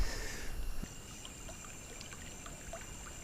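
A river flowing in Costa Rica, with a soft steady wash of moving water that carries on alone throughout, stronger in the opening second and then settling into an even, low rush.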